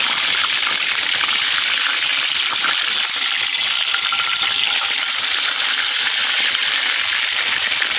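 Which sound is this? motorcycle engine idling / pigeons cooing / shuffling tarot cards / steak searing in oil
steak searing in oil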